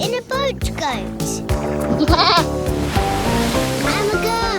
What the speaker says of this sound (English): Nanny goat.